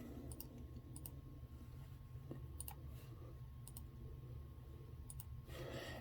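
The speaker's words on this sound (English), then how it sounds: "So I'll click the home page." A computer mouse clicking on a web page, with several crisp paired clicks spaced a second or so apart, close and distinct over a steady low electrical hum.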